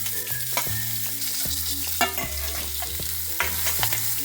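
Chopped onion sautés in a pan of garlic-chili tempering for a yogurt pitla, with a steady soft sizzle broken by repeated spoon stirs and scrapes against the pan, and no talking.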